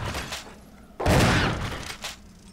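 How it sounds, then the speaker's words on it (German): Gunfire in the survival-horror game Resident Evil HD: a sharp burst of shots erupts midway with a shorter crack near the end, loud and close over a low game ambience with no talking. "Schieß halt."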